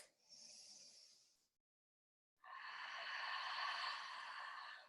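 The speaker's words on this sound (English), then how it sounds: "2 more deep belly breaths" A deep belly breath during a yoga session: a soft drawn-in inhale, a brief silent pause, then a longer, steady exhale, close and alone.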